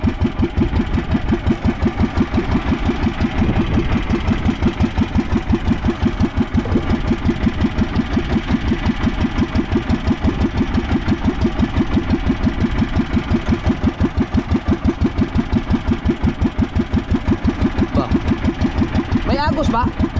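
A broken fishing boat engine runs with a steady, rapid knocking beat, loud and close, its pulsing rhythm continuing evenly throughout with a brief faint voice near the end.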